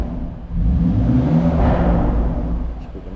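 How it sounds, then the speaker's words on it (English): A BMW M2 Competition DCT with a Remus exhaust fires up cold and gives a short rev blip, a loud surge that swells and eases back to a rumbling idle, near and without talk. "just going to do an off cold start and get another little blip"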